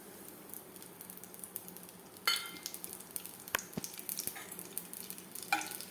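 Cardamom, cinnamon, cloves and poppy seeds hiss faintly in hot oil. A low steady sizzle runs throughout, louder after the spices drop in, with a few clinks of a spoon against the pan.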